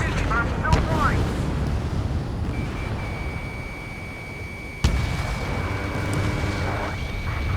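In the combat flight game Ace Combat 7, a sharp explosion bursts out near the start and another midway, over a continuous engine rumble, a steady warning tone and radio-style voices talking.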